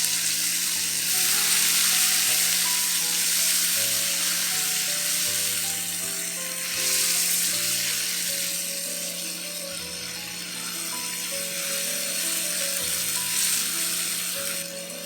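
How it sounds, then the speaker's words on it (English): Prawn paste pork belly frying in a pan, a loud continuous sizzle and crackle that swells and eases over the whole span, with faint clicking underneath. "Fry this other side for another 1 to 2 minutes."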